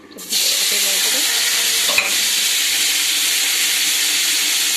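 Two chillies frying in a little oil in a pan for tomato chutney, a sudden loud sizzle bursting in and then holding as a steady hiss, with one sharp clink near the middle, close and unaccompanied by talk.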